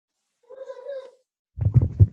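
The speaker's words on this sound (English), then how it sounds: "you probably did notice my freaking cat" A pet cat gives one drawn-out, nasal meow nearby on a team call, then a person starts talking right after it.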